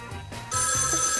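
A telephone bell rings indoors, a bright, sustained electronic trill that starts abruptly after a brief rumble of background noise and continues steadily.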